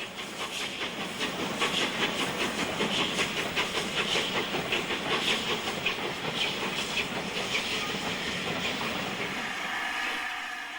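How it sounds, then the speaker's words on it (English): LNER A2 Pacific steam locomotive Blue Peter departing Aberdeen, with steady hissing steam, rhythmic exhaust beats and clanking rail noise, continuous and fairly close, fading slightly at the end. "In this view, the A2 departs from Aberdeen."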